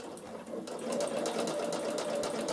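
A Bernina sewing machine with a ruffler foot runs steadily close up, ruffling fabric with a fast, even mechanical chatter that grows louder after the first second.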